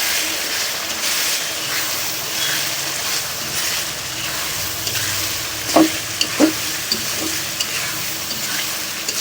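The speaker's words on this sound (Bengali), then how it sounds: "এগুলোকে ভালোভাবে এখন মিক্স করে দিচ্ছি।" Beef frying with spices and salt for a Qurbani meat curry, stirred in a pan: a steady close sizzle with a few louder scrapes of the spoon near the middle, no talking.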